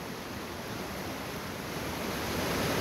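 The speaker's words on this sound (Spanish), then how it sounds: "ahorita no está muy grande el río" River flowing beneath a hammock suspension bridge in Caquil, Joyabaj, Quiché, during the dry season, a steady broadband rushing of water with some wind noise, constant and unbroken.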